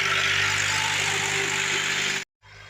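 The engine of a model 260 tractor on a potato farm idles steadily and loudly up close, a constant drone that cuts off abruptly near the end before a fainter hum resumes.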